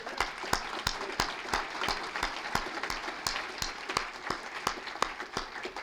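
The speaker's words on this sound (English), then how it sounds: "So let's give them a round of applause." Audience at a university lecture event applauding, a steady wash of many hands clapping with sharp individual claps standing out, moderately loud and continuous throughout.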